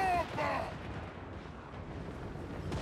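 Battlefield rumble from Total War: Warhammer 3, with a sharp burst at the start followed by a steady low roar of artillery and massed gunfire at a distance. A faint tonal sound rings out briefly at the beginning.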